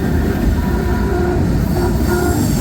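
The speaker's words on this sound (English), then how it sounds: "I believe we're getting to the end of this train" A CSX freight train with gondola cars rolls past on the Old Main Line at around 15 to 20 miles an hour, a steady, close rumble of wheels on rail with faint flange squeal, no voices.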